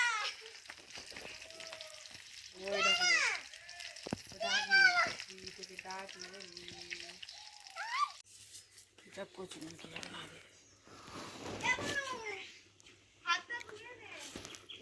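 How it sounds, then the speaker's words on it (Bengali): Panch phoron spices hit hot oil and crackle and sizzle in a pan, a steady frying hiss under frequent nearby chatter and children's voices. "পাঁচ ফোড়ন দিয়ে দিলাম তেলের মধ্যে।"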